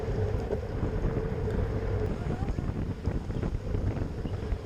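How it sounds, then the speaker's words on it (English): Strong crosswind buffeting the microphone during a cycling road race on a narrow, bumpy street, a steady low roaring rumble that continues through the whole stretch. "we've got some wind from the right."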